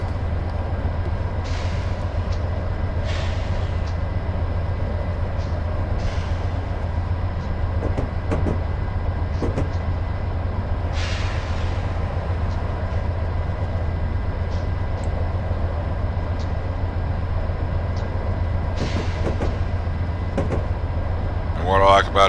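Train rolling along track in Train Simulator 2015: a steady low rumble with a droning hum and repeated sharp clicks and clunks from the wheels over rail joints, loud and continuous throughout.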